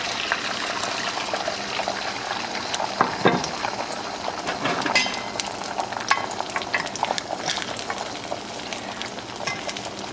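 Eggs fry in hot oil in a wok for beef fried rice, crackling and sizzling steadily with sharp pops and spatters scattered throughout, fairly close and without any talking.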